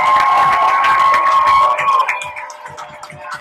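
A crowd cheers and shouts at a race in Ketchikan, Alaska, a loud, close wall of voices with a high whistle or whoop, fading to scattered shouts and calls after two seconds.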